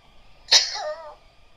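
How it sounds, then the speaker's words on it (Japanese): A single short sneeze, sudden and fairly close, with a brief voiced tail, against a quiet background. "くしゃみ出た。"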